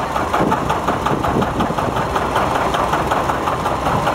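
A 730 diesel tractor engine idles nearby with a continuous low rumble and faint knocking, no talking.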